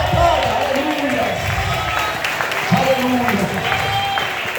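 Steady applause from a church congregation fills the space, mixed with a few voices calling out over the clapping.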